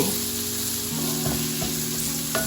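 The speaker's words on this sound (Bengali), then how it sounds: "কাঁচামরিচ দেওয়ার পরে কিছুক্ষণ সুন্দরভাবে কষাবো" Amaranth greens and broad bean seeds with green chili sautéing in a pan, a steady close sizzle and crackle of frying oil continuing throughout, with faint stirring scrapes and no talking.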